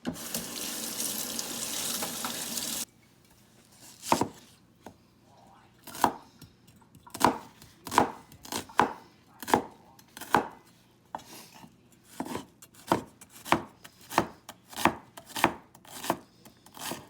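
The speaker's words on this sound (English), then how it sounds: "The onion is diced." A knife dices an onion on a cutting board in a run of crisp, close chops at an uneven pace after a brief burst of running tap water at the start.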